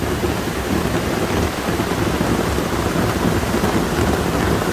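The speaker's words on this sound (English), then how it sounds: "It's raining very heavily today." A dense, steady roar of heavy tropical monsoon rain pours down without letup, filling the whole stretch with loud, even hiss.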